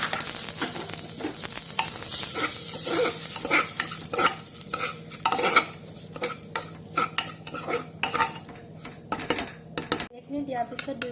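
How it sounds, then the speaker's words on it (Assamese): Broken wheat dalia is stirred and fried with cumin and onion in a cooker, a metal spoon scraping and clanking against the pot in an irregular rhythm over a steady sizzle, close and loud. "ইয়াতে মই ডালিয়াখিনি দি দিলোঁ।"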